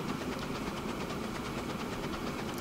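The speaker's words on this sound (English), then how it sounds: "Little tank engine." Little saddle tank steam engine in Transport Fever 2, a continuous rhythmic chuffing with rapid regular beats over a dense mechanical rumble, steady and fairly close, with no voices.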